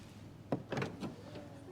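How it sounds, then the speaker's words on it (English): The doors of a 2024 BMW M3 Competition xDrive lock with a few quick mechanical clunks and whirs, close and moderately loud over a steady background hiss. "you just push this and it'll actually lock the doors"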